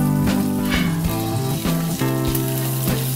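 Whole cumin, black mustard, white sesame, green and dry chillies and curry leaves fry in oil for a potato semolina snack, a loud close sizzle with bright crackles and a few stirring knocks.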